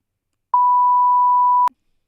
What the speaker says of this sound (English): can blur that out or give a beep.